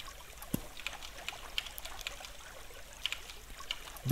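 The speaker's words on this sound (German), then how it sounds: "So, hier ist eine Wasserquelle. Das ist alles Wasserquelle hier" A flowing water source in the game Minetest gives a steady faint trickle and stream, with small splashy ticks scattered through it, quiet and continuous with no talk.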